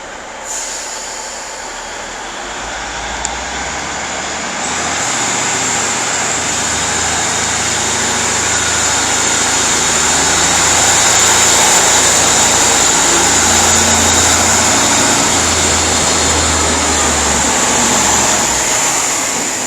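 East Midlands Railway train passing through platform 7 at Derby station, a loud steady rumble of wheels on rail with a sustained high metallic squeal that swells as it runs through, no talk.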